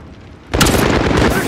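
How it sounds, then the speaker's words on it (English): A grenade goes off in Call of Duty Modern Warfare on the Scrapyard map, one sudden loud blast that cuts through quieter game ambience and then rolls on as a dense, rumbling wash. "Grenade out!"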